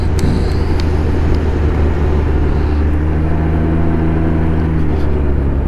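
A 2022 Can-Am Ryker 900 rides along a road toward Lemont Furnace, Pennsylvania, giving a continuous engine and wind drone that settles into a steadier humming tone partway through.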